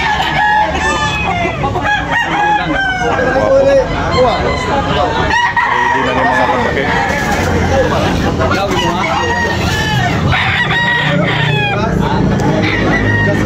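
Several roosters crow repeatedly at a busy chicken market in Tabunok, loud and overlapping amid crowd babble, with someone talking throughout.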